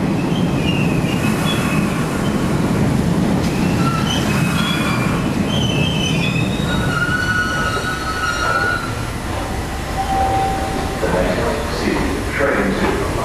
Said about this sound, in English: here comes Orange Line goodness, about to arrive here in North Station